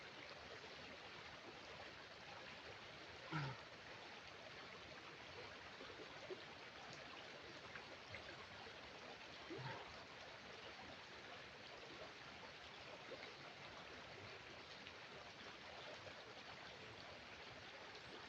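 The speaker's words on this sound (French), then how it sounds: "écoutez le bruit de la rivière" A river flows steadily throughout, a dense broadband rush of water that stays constant in level, with a couple of faint brief knocks and no voices.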